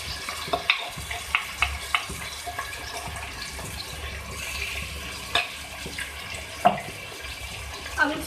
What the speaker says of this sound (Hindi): अब इसको अच्छी तरीके से हम करेंगे, फ्राई करेंगे, भूनेंगे।